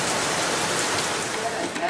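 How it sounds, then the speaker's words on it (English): Heavy rain from ex-tropical cyclone Debbie falls steadily, a dense close hiss of drops on surfaces filling the whole two seconds. "It's certainly raining, got to give it that much."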